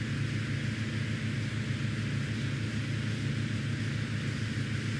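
Steady, even rotor and engine drone of a helicopter in flight in Microsoft Flight Simulator X, continuous at moderate level with no talking.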